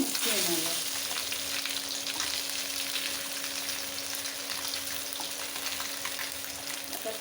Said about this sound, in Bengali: দুপাশ ভাজা হয়ে গেছে, এবার মাছগুলোকে আমি উঠিয়ে নেব।